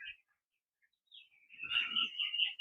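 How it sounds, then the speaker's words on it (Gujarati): Bright bird chirps and calls in a village in the early morning, a short note at the start, then a busier stretch of overlapping chirping; fairly faint, no voices. "બાકી તો પક્ષીઓનો કલરવ ને એવું જોરદાર આવે છે"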